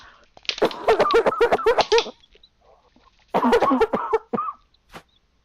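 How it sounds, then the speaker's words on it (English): Raucous coughing from a woman in a fit, two bursts of rapid harsh coughs separated by a short pause, close and loud. "she goes into another fit of raucous coughing, just holding the blanket like to her face"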